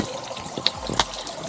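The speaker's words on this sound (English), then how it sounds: "Yay, water." Water runs from a hose spigot near a boat, a soft steady trickle with a couple of brief splashy bursts, fairly faint and alone.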